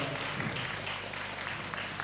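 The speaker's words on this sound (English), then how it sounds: "Give him another round of applause." Brief burst of audience applause at an entrepreneur seminar, a dense wash of clapping throughout with faint voices mixed in.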